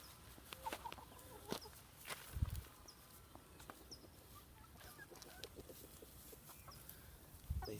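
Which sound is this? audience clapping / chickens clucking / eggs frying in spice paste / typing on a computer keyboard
chickens clucking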